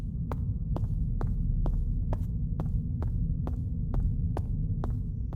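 Quiet ambience from the video game Nightmare of Decay: a low, steady hum fills the space while soft, regular thuds pulse beneath it like a slow heartbeat, quiet and moody.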